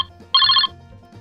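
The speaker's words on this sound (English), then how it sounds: "The phone rings at the neighbor's house." A neighbor's telephone gives one short electronic ring burst, bright and clear, rising out of a quiet room and cutting off after about a third of a second.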